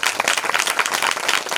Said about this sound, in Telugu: చప్పట్లు కొట్టి ప్రభువుని మహిమపరుస్తాం.